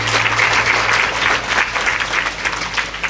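Audience applause welcoming at a Shrimad Devi Bhagwat Katha religious discourse, sustained loud clapping from a large crowd filling the whole stretch, steady and even with a low hum underneath.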